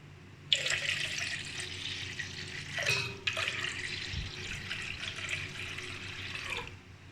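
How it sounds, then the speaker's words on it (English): Water runs steadily from a tap into a pan of Rajasthani kadi curry mixture for two people, a continuous hissing pour lasting several seconds, with a brief break partway through, close and moderately loud, no talking. "Next step is we'll add on some water."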